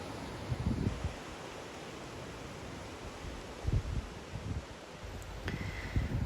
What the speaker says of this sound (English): I'm just going to show you how the wind is going.